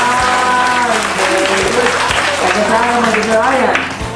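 Audience at Lawaan Elementary School clapping steadily, with loud voices shouting and cheering over the applause throughout.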